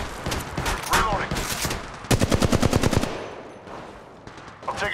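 Rapid automatic gunfire from an Apex Legends Mobile match, a dense burst of shots followed by a tight rhythmic volley and scattered later rounds, loud and close with faint voices in the background.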